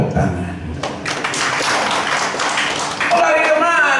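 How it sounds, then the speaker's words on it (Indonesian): Crowd applause breaks out at an interfaith prayer gathering in Mimika, a dense wash of clapping hands that swells after a brief moment and carries steadily to the end. "Tepuk tangan."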